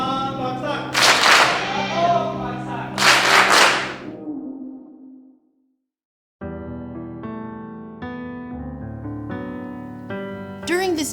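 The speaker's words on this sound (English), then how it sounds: "Isang bagsak is a unifying clap." Isang bagsak, a unifying group clap performed on stage in a musical, sounding as two loud, sharp, unison claps with voices and ringing tones before and after.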